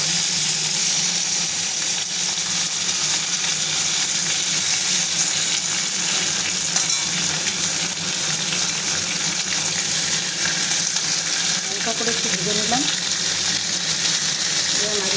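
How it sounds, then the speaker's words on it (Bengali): Hilsa fish fries in a pan of hot oil, giving a loud, steady sizzle that carries on without a break, with faint stirring scrapes near the end. "এইভাবে রুটি ভাজতে হবে অল্প করে হালকা"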